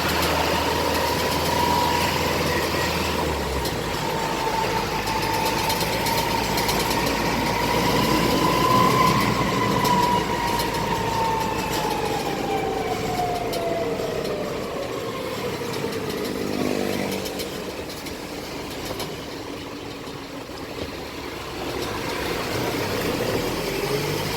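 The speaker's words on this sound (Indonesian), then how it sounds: "itu noise dari transfer case" Transfer case noise on a Hino Dutro double-axle 4x4 truck while driving: a continuous whining drone that rises and falls in pitch over road and engine rumble, steady and fairly loud throughout with no talk.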